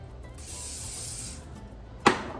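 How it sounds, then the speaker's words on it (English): A short steady hiss from a can of non-stick cooking spray, followed after a pause by a single sharp clack. "Spritz it down with some non-stick spray."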